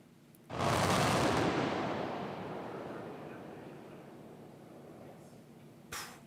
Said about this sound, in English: hearing the sound of this implosion has got to be incredible